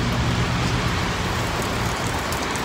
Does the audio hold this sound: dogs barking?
no